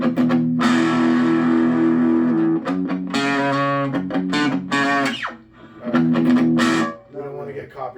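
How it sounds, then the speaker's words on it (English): An inexpensive Esteban electric guitar is played through distortion, giving loud, gritty sustained chords and short bursts with brief pauses between phrases. "Did you show them the distortion stuff?"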